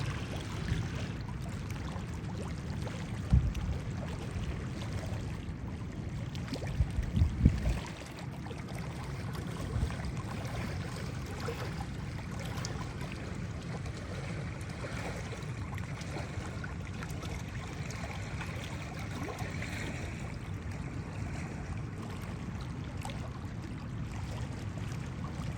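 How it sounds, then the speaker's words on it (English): Nugget waterfall near Juneau, Alaska, heard from a distance as a constant low rushing roar of falling water, steady throughout with a few brief knocks early on. "That is a waterfall called Nugget"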